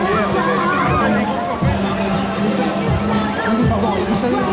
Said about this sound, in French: Malgré un petit peu toute la foule ici et les milliers de personnes.